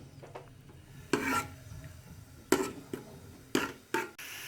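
Onions frying in oil in a pan while being stirred for a dal mash dish: quiet scraping and rubbing strokes of a spoon, several separate swipes spaced out over a soft background sizzle, with no talking.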